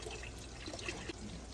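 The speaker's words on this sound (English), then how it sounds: "I'm just going to pour it in there till it look right." Milk poured into a pot on the stove while cooking a family breakfast, a faint, soft liquid trickle and splash heard close up, continuous and quiet throughout.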